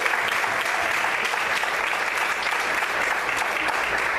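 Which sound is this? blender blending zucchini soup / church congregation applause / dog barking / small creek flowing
church congregation applause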